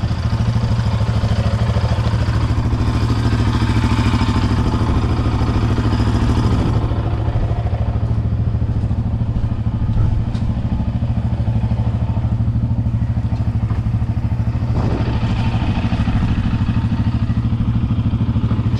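A Yamaha Raptor 700 Special Edition quad bike engine running, a loud, close, continuous throbbing drone with clattering and thumps as it rides, no talking.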